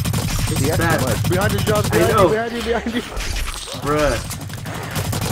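Bursts of video game gunfire from Black Light zombie survival mode crackle repeatedly under excited, continuous talk between players.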